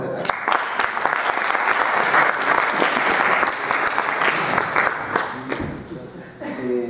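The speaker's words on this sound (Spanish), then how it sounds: "Y un aplauso, por favor." Steady, dense audience applause fills a hall after a talk on mass media. It stays loud and even for about six seconds, then fades as a voice begins speaking near the end.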